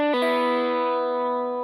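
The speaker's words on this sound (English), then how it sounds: "bumping the next adjacent string up" A guitar pull-off that accidentally bumps the adjacent string: the note changes sharply after an attack, then rings on with a bright overtone-rich sustain that slowly fades; a faint extra string sounds underneath.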